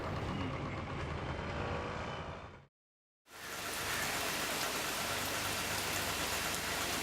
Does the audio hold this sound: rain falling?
yes